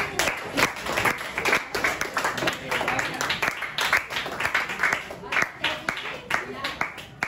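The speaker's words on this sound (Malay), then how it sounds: "Kita bagi tepukan" A classroom group claps for a student during a teaching practicum session, a dense, steady burst of applause with sharp individual hand claps lasting several seconds, fairly close and filling the room.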